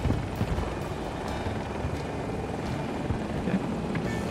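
Apache helicopter in the video game Battlefield 2042, its rotor producing a steady, dense broadband roar that holds constant throughout, with no speech.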